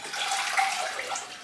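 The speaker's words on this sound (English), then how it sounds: "I'm just going to dump that water in there for now" Water dumped out of a plant container pours in a steady, soft, close splashing stream for a second or so, without speech.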